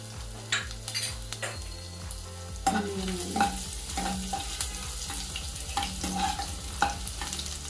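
Finely chopped garlic, ginger and green chilies sizzle in hot oil while a spoon stirs and scrapes the pan, with soft, irregular clinks over a quiet, close frying hiss.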